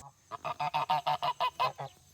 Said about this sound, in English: Hello, Goose Goose.